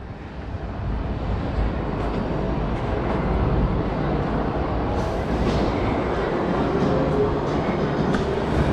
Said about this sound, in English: And there goes the next train.